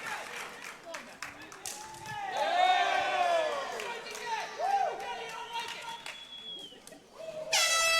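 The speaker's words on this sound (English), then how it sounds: "Listen to the crowd, man. They love this." A crowd at a Combat Jiu-Jitsu Worlds match cheers and roars in the background, with whoops and horn blasts rising and falling, while voices talk over the din.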